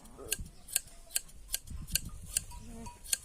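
Regular sharp snips of hand shears clipping sheep wool, roughly every half second, with faint low murmuring underneath.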